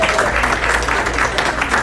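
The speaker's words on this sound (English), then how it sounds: "Let's give her another round of applause" Sustained, dense applause from a banquet audience honoring a speaker named Amy, steady and full throughout with no pauses.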